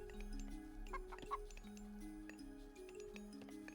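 Chickens cluck softly in the Age of Mythology strategy game, a string of short repeated clucks over quiet background game tones.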